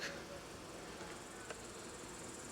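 Honey bees in a crowded hive packed with food stores and fresh comb give off a faint, steady, continuous buzzing drone, close and unbroken, with a small click partway through.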